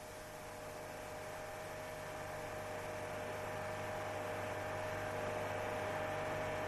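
A steady low droning hum inside a car, body panels vibrating from an improperly mounted exhaust pipe support, with constant tonal lines and a faint hiss, unbroken and moderately quiet throughout.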